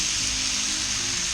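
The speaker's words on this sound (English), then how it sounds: "Then after that, I'm going to go lay out some bacon strips." Bacon strips sizzle on a Weber Q griddle, a steady close hiss of frying fat running unbroken throughout with no talk.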